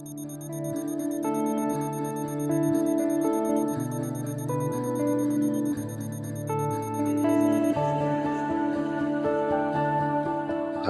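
An alarm clock rings in a Hindi TV drama scene, its bright, steady ringing tones sounding continuously for about eleven seconds over sustained tonal music, with no talking.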